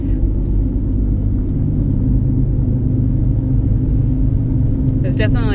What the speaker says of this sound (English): There's definitely a wheel bearing noise there.